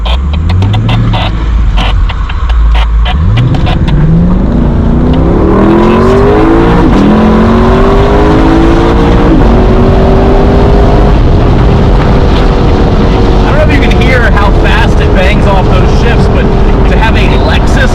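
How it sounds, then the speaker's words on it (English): A Lexus LC 500 Convertible's engine revs hard under acceleration. The automatic transmission clicks through several quick upshifts, each marked by a brief drop in pitch before the engine climbs again, loud and close throughout. "Automatic transmission that will just click the shifts like that is so phenomenal to me"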